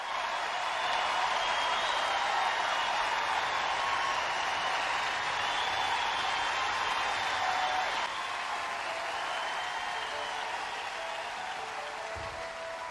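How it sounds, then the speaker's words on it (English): Live Eurovision Song Contest 1997 audience in Ireland applauding the Irish host entry, a long sustained wash of crowd clapping and cheering with a tonal musical hum underneath, dropping slightly in level partway through. "the host entry, so you'll hear a big applause here"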